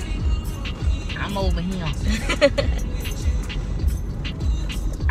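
Steady low engine rumble and road noise inside a moving car, continuous and moderately loud, with people talking over it.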